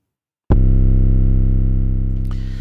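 A single 808 bass sample from a Cymatics sample pack, one loud distorted sub-bass note that hits suddenly and sustains with a slow, gentle decay, alone with no voices.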